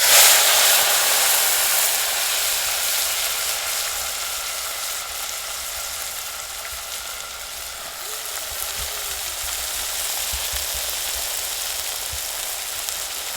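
Mung and moth beans fry in hot oil with garlic pieces and asafoetida, giving a steady, close sizzle. The even crackling hiss holds at a constant level throughout with no talking.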